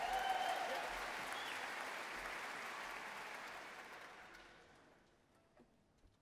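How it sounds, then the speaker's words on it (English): An audience applauds at a Sydney Symphony Orchestra swing concert, warm sustained clapping that starts full and gradually fades away to near silence over several seconds. "Give yourself a round of applause."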